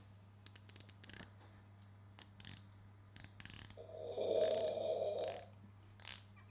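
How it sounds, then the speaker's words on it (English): Rotating bezel on a Bremont S302 dive watch clicks in a run of crisp, close ratcheting ticks, first in scattered short bursts, then a denser, steady stretch of clicking near the end. "it's also a really good excuse to play with that bezel, which just sounds awesome. Listen."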